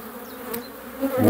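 Honeybees buzz around an opened hive frame during a spring apiary visit, their close, wavering hum broken by brief louder swells as individual bees pass near.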